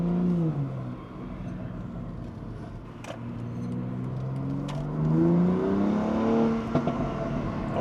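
A BMW X3M with an OPF-delete, equal-length exhaust revs inside a tunnel, its engine note rising and falling in long sweeps with echoing resonance and a few sharp pops near the end.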